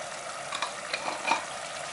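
Spices being stirred in a hot frying pan, a low steady sizzle with a few soft scraping strokes of the spoon, close and fairly quiet, no voices.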